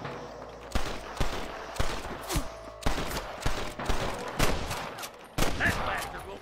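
Sniper gunfire in Red Dead Redemption cracks out as sharp single shots, about a dozen spaced irregularly over steady game ambience, fairly loud and close.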